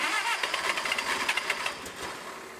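A Bobcat skid steer's engine runs just after starting, with a rough, uneven chugging rhythm from the governor, fairly quiet and steady over a short stretch without voices.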